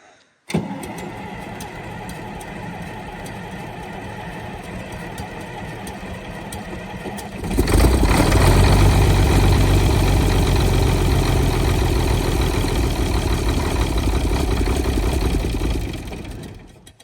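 A dozer engine cranks and catches, idles steadily, then surges to a louder, fuller running note for several seconds before cutting off abruptly. No one speaks.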